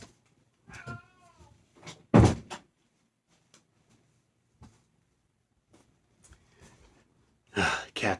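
A house cat meows a few times between quiet pauses, near and fairly loud, with a door or cupboard knock and some soft human sounds.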